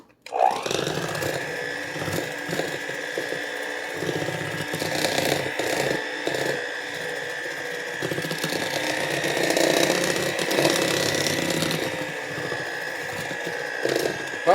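An electric mixer steadily whirs while beating zucchini cake batter, holding a continuous close, fairly loud hum for the whole stretch, with small clinks against the bowl and no talking.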